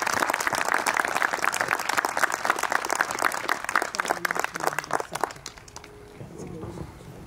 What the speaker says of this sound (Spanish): vamos a dar un fuerte aplauso a los padres de Ashley